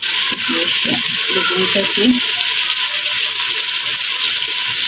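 Onions and potatoes fry in a cooking pot, giving off a steady, loud, close sizzle for the whole stretch. A voice speaks briefly over it near the start.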